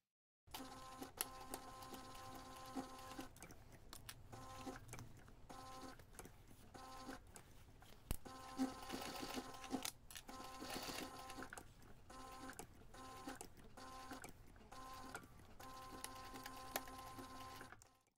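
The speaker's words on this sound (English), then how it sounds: "we're going to take this to the machine and we're going to stitch the top edge of our connector" A sewing machine stitches the top edge of a fabric connector for a toiletry pouch, running in a steady rapid mechanical chatter with brief pauses and restarts, fairly faint and close, with no voices.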